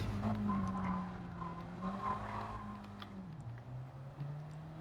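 Race car engine in Gran Turismo 7 held high near redline on a short, curvy track, a steady droning whine with slight pitch dips and faint tire squeal, continuous and fairly close.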